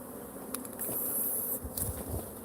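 A swarm of roughly 7,000 to 10,000 bees hums in a dense, continuous buzz, close and fairly quiet, with no talking.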